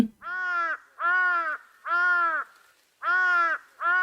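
A crow caws five times in a slow, regular rhythm, each call harsh and drawn-out, loud and close against near silence.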